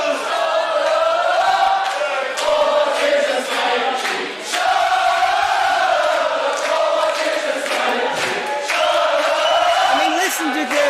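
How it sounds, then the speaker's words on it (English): A large professional wrestling crowd roars and chants in rhythmic waves, loud and continuous across the arena, with the voices swelling and dipping and a short lull midway. "listen to this crowd. This crowd is the freaking champion"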